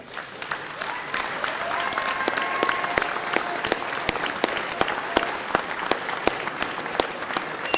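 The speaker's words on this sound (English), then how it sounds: "Graduates, please stand and offer your applause to the people here who have supported you through" An audience at a university graduation ceremony applauds for several seconds, with dense, sustained clapping and sharp individual claps standing out against the mass.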